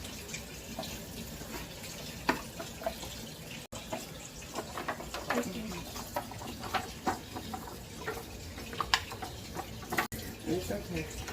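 Tap water runs steadily while hands are washed in a home kitchen during cooking, a continuous splashing hiss at close range with brief louder spatters, with people talking over it.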